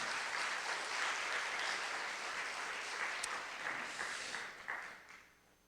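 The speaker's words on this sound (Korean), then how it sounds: "우리 학생들 여러분들 박수로 격려해 주시기 바랍니다" A church congregation claps steadily in sustained applause, with a few louder claps near the end before it tapers off.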